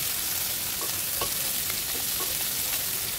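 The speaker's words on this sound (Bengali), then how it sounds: "ভালো করে ভেজে নিচ্ছি মশলাগুলো দেওয়ার আগে" Tomato pieces and three green chillies frying with potatoes in a pan, giving a steady loud sizzle with a few faint spatula scrapes, no voices.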